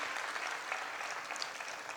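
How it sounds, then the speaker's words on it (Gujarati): An audience claps for a prayer sung by girls at a public event, a dense, steady round of applause from a crowd that lasts the whole stretch at moderate volume. "એને માટે જોરદાર તાળી પાડો"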